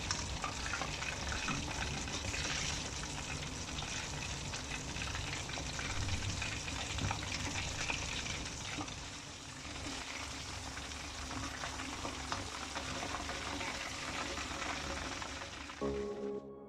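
Chicken dabu, a fried chicken dish, cooks on a low flame, giving a steady, dense sizzle and crackle of frying oil that continues evenly throughout, close and without speech.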